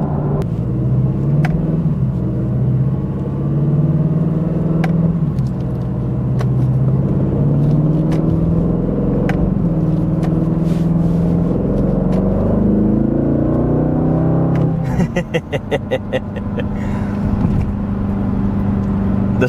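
A 2025 Aston Martin Vantage with a twin-turbo V8 and ZF 8-speed on the road, a loud steady low engine drone rising and falling through gear changes, heard close from the cabin with no talking.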